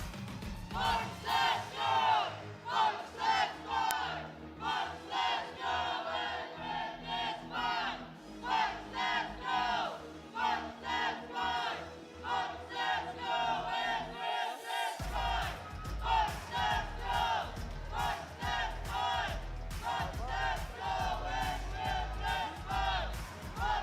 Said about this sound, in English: let's hear the loudest cheer of our squad from San Marcelino, Adamson University